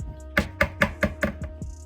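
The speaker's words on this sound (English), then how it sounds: "it sounds like you chopping something up" A knife chops food on a board in a quick series of about six sharp, close, evenly spaced strikes, each a crisp thud, with a faint high tone sounding briefly near the end.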